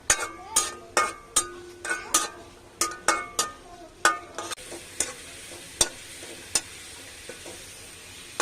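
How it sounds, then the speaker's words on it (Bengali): Onions frying in oil on a stove, a soft sizzle beneath repeated sharp clinks of a metal spoon stirring against the pan, quick rhythmic scrapes at first, then slower, sparser knocks. "তেল পেঁয়াজ দিয়ে, পেঁয়াজটা একটু ভাজা ভাজা হলে তখন বাকি সব কিছু দিব।"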